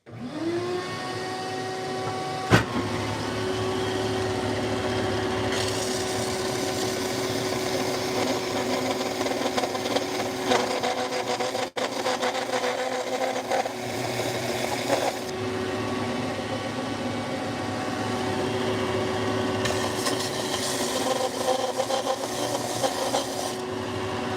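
Steady, loud power-tool whine of a belt sander running continuously on wood, with a sharp knock early on and the pitch shifting slightly as pressure changes.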